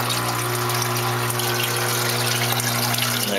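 Water bubbling and gushing in a DIY Rubbermaid tub sump with a pump running, a loud continuous churning hiss with a steady low mechanical hum.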